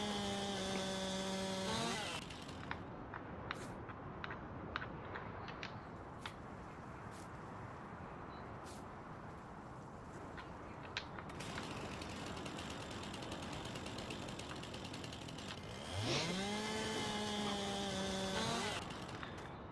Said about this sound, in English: Just sawing wood